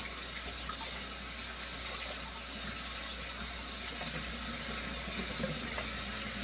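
Water runs steadily from a kitchen tap during handwashing, a constant moderate hiss and splash with no pauses and no talking.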